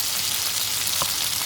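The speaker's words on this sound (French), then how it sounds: "Que vous entendez de nouveau ce petit frémissement." Veal and onions sizzle in a pan while rice cooks, a steady soft frying hiss running throughout with one small pop near the end, heard close with no talking.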